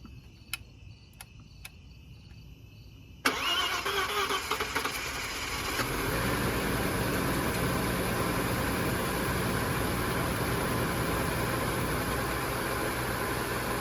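Crickets chirp in a quiet setting, then an Audi S4 B5 twin-turbo track car's engine cranks and catches, settling into a steady idle that continues to the end.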